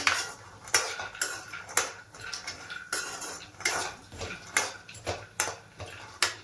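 A metal spoon stirs almonds and nuts in ghee in a pan, scraping and clinking against the metal in a steady rhythm of sharp, close knocks, with no voices.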